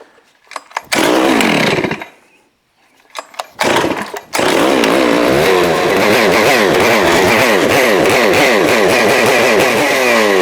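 A Neotec 892 Stihl-clone chainsaw sputters and revs in short loud bursts with gaps between them. It then settles into a sustained, wavering high-revving run close to the mic while the carburetor is being tuned.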